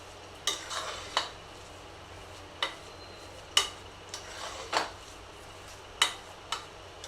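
Cooked rice being mashed in a pot for curd rice, a few spaced, sharp clacks and scrapes of a ladle against the vessel, close and fairly quiet, with no voices.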